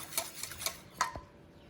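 A metal pot of cream for kadayıf dessert is set onto a stovetop: a few light metallic clinks, then a sharper clank with a brief ringing tone. The sounds are quiet and close, with no talking.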